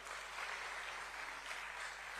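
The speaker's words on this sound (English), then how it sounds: "Can we have a huge round of applause for her?" An audience at a listing ceremony claps steadily and evenly, a dense wash of applause heard from within the room, with no talk over it.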